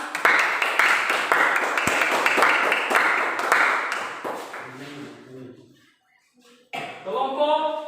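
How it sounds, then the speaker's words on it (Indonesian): A group of students claps hands in a classroom, a dense burst of sharp claps for about five seconds that thins and stops, followed by a pause and then a voice speaking. "Tepuk tangan."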